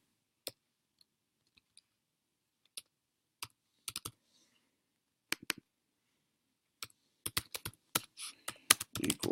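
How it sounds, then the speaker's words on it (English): Typing on a computer keyboard while entering code, with sparse isolated key clicks at first, then a faster, denser burst of keystrokes toward the end; close and fairly quiet, with no talking. "here we're going to type in the name of the data"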